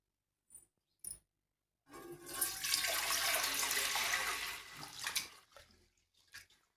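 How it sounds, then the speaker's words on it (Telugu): Ration rice being washed in water before soaking, with a few short splashes, then a sustained rush of swirling water lasting a few seconds and tapering into scattered drips and sloshes, close and fairly loud with no talking. "మరి ఒక 2-3 సార్లు శుభ్రంగా కడుక్కొని నానబెట్టేసుకుందామండి"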